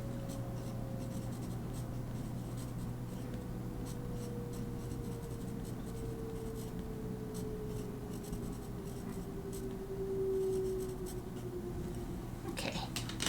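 A pencil writes by hand on paper, with soft scratchy strokes and taps under a quiet steady hum, close and faint.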